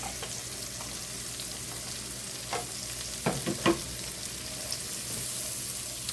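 Onions frying in butter in a pan give a steady low sizzle throughout, with a few brief stirring scrapes near the middle; no voices.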